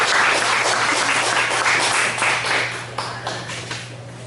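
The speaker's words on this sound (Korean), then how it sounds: "박수 한번 해주시죠" Church congregation clapping together, a dense burst of applause that holds for a few seconds and then thins out, with a low steady hum beneath.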